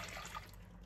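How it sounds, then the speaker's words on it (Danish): Milk pours into a bowl in a brief, soft, steady liquid stream, faint and close. "Så putter jeg sådan så meget mælk her i, og så hælder jeg det bare ned i min skål."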